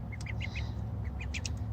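Several short, nasal duck quacks sound in quick bursts, close by and fairly loud, over a steady low background rumble with no talking.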